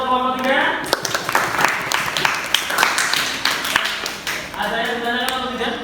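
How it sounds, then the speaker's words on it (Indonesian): A classroom of people claps together in a short burst of applause for a student group, with voices talking at the start and end. "Beri tepuk tangan untuk kelompok 3."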